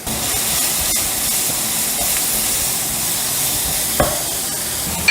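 Steady broadband sizzling of chopped onions frying in hot ghee, a continuous close hiss with a brief stir or clatter near the end.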